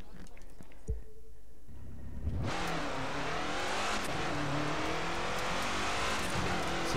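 Car engine in The Crew 2 racing game revving hard on a test drive, quiet idle at first, then a sudden loud surge into sustained high revs with shifting engine tones, close and constant.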